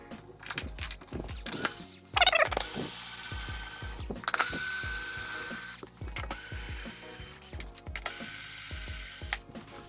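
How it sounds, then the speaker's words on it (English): Ratcheting clicks and mechanical tool sounds as motorcycle fairing bolts are loosened on a Honda VFR800 Interceptor, close up, in repeated bursts with brief pauses. "I like to do this with a screwdriver or my trusty little IKEA tool."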